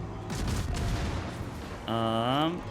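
Naval guns firing in World of Warships from a Minotaur cruiser: a dense, rapid run of booming shots fills the clip, then a sustained tonal game sound cuts in near the end.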